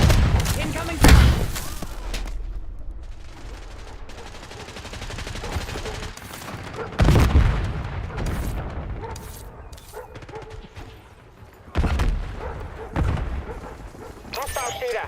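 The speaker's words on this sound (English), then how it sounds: "Incoming fire." Gunfire and heavy explosions from the first-person shooter Black Ops 6 erupt in three loud bursts spaced several seconds apart, each fading into a rumbling tail, while voices talk over the combat.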